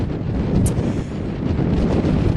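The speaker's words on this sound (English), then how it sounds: "Still very windy though." Strong gusting wind buffets the microphone on an open hillside walk in Swaledale, Yorkshire Dales, a heavy low rumble that rises and falls throughout with no other clear sounds.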